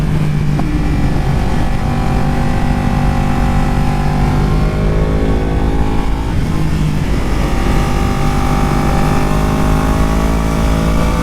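A Yamaha R1 sport motorcycle's engine roars loud and close at a rainy track day on a wet circuit, holding a steady high-revving tone that dips briefly as the bike eases through a puddle-covered corner, then climbs again.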